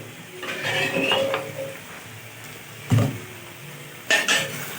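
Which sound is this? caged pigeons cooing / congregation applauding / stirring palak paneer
stirring palak paneer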